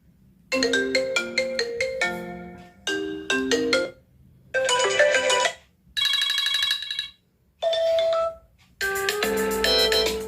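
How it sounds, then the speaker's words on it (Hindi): An iPhone's built-in ringtone plays loud and clean, a bright melodic tune in several bursts separated by brief gaps, with no talking. "जो उसकी खुद की रिंगटोन है उसको प्ले करूँगा"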